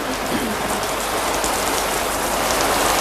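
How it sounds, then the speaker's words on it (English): Steady rain pouring down on a surface, a dense, even hiss that stays loud and unbroken the whole time, with no voices over it. "Still raining, is it?"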